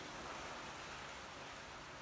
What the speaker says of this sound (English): now it's just like pouring rain